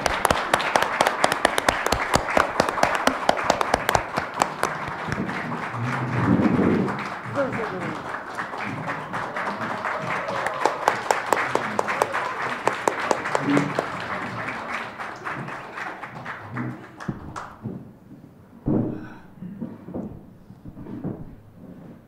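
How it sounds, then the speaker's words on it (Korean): A seated audience at a stage talk event gives a long round of applause as a guest is welcomed onstage. The dense clapping fills the room, then thins to scattered claps and fades out near the end. "박수 부탁드립니다."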